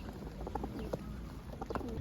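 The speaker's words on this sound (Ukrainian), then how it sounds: "Вон, вон голуб." Pigeons at a pigeon show in Ivano-Frankivsk coo in soft intermittent bursts amid a busy, murmuring hall background.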